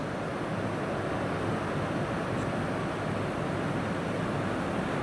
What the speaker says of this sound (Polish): No szum wody jest. I to taki wydaje się niemały, więc ta woda jakoś płynie.